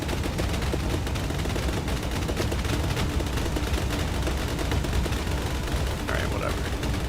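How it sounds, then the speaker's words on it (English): Continuous loud gunfire from robot vehicle weapons in the video game Procelio, dense rapid shots filling the whole stretch without pause, with a voice speaking over it. "Who's shooting at me now?"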